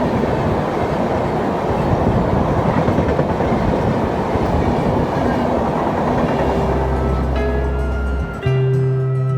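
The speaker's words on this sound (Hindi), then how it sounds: "हमने पुनः विश्वामित्री स्टेशन से अपनी ट्रेन बोर्ड कर ली और अब हम सोमनाथ जा रहे थे।" A luxury tourist train in Gujarat runs steadily on its rails with a loud, continuous rumble and rhythmic clatter. Near the end the wheels let out a brief squeal, and a low hum settles in.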